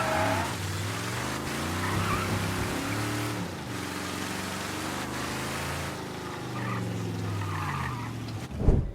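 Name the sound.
car pulling over to park, video game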